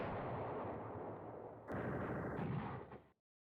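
Artillery fire in the Command Ops 2 wargame, set in Poland 1939 in the Beskid Mountains, as a dense continuous rumbling barrage that swells partway through and then cuts off abruptly, with no talking.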